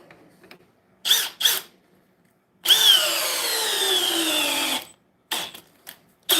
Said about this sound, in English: So yes, it will do it on speed 2 in drill mode.